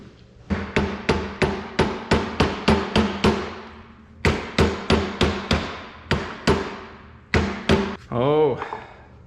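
Hammer strikes ring out on chisels driven between the leaves of 1855 springs, fast repeated clanking blows in two long bursts, then a few more hits and a short metallic scrape at the end.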